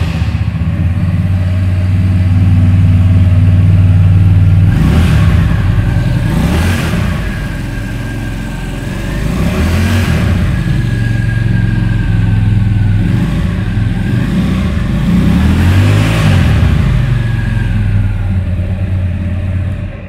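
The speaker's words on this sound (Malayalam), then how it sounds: "ഇനി നമുക്ക് എക്സോസ്റ്റ് നോട്ടൊന്ന് കേട്ട് പോകാം." Keeway Benda V302C twin-cylinder bobber motorcycle exhaust, loud and close, with a deep idle rumble broken by several sharp throttle blips that rise and fall, no talking.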